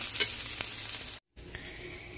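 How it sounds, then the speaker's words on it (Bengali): Hilsa fish pieces fry in hot oil with onion and chili, giving a steady close sizzle and crackle that drops out briefly, then resumes. "এই যে হয়ে গেল আমার ইলিশ মাছ ভাজা"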